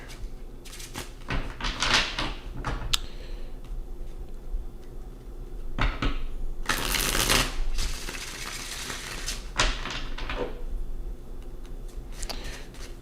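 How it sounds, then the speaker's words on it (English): Bursts of tarot card shuffling come in several riffles and rustles, with soft ticks and taps between them, close by and fairly quiet. "Shuffle those cards really good."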